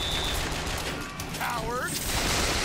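Gunfire in the shooter game Bioshock Infinite, a burst of shots over game ambience with a short whistling or chirping effect midway and a louder blast near the end.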